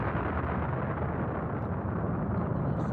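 A huge, continuous rumbling roar fills the whole stretch, a deep sustained blast sound effect representing the Big Bang, steady and loud throughout with no break or voice.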